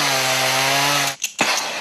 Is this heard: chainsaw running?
yes